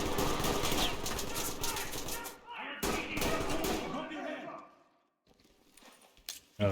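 Bursts of gunfire in the tactical shooter game Ready or Not rattle loudly for the first few seconds, then fade after a short gap into near silence with a faint clatter at the end, while voices talk over the shooting.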